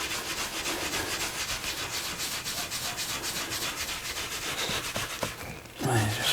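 Steady back-and-forth rubbing as a waxy protective finish is worked into the leather of a handmade travel journal, a close, even swishing rhythm that ends with a brief soft handling noise.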